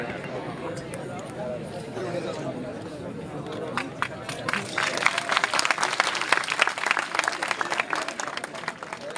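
An audience at a Prajapati community felicitation ceremony for students in Viratnagar, Alwar, breaks into applause that swells into dense, fairly close clapping over the last half, with speech audible beneath.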